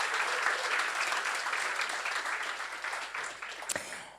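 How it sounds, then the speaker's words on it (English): An audience at a startup showcase event gives a round of applause for the judges, dense sustained clapping that gradually thins and fades toward the end. "can we give a huge, massive thank you and round of applause to our judges"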